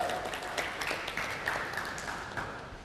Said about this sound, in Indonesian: beri tepuk tangan untuk tim kontra.